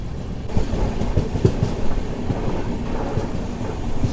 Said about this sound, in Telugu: సో మన ట్రైన్ వచ్చేసి నెమ్మదిగా ఒక బ్యూటిఫుల్ కర్వ్ అయితే కొడుతుంది